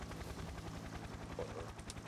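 Helicopter in the video game Payday 2, a faint, steady rotor chop with rapid regular thumping, mixed with a low game soundtrack and no voices.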